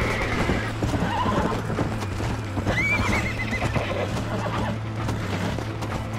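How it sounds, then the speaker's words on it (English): A horse in the Red Dead Redemption video game pounds along in a continuous gallop, loud and close, with a clear whinnying neigh rising partway through over the steady hoofbeats. "What is going on with his horse?"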